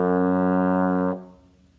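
A lone trombone note sounded with the slide in fifth position, a few inches past the bell, held evenly for just over a second and then released, with no voices over it.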